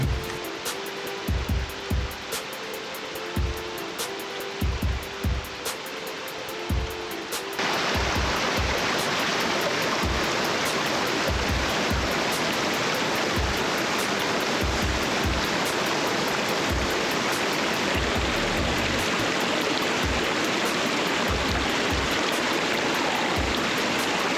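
Mountain river in the Gorgany range of the Carpathians flowing over rocks, a steady broadband rush that swells louder and closer after the first few seconds, with intermittent low thumps like handling or wind on the microphone.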